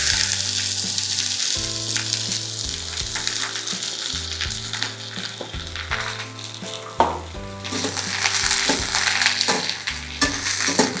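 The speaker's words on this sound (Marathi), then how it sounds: "आता खोबरं भाजून झालं की आपल्याला लगेच कांदा भाजून घ्यायचा" Onion roasting in a pan for Puneri misal sizzles loudly and steadily up close, broken by irregular scraping stirs and a sharper clack near the middle.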